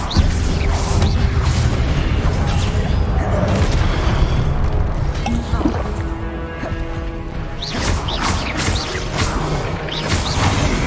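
A fire spell blast in a Hogwarts wizard video game, heavy booming and crashing effects layered over a dense, continuous battle soundscape with other spell impacts and music throughout.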